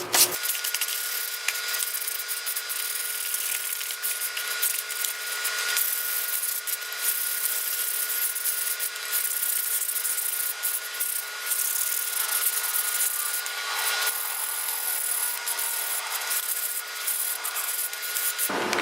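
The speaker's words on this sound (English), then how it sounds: "take your sandpaper and then just sand over some of the paint pieces" Sandpaper rubbing over the painted surface of a terra cotta planter, a steady close scratchy friction sound with repeated strokes and no talking.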